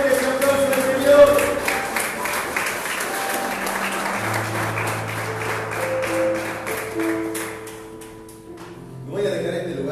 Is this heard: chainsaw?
no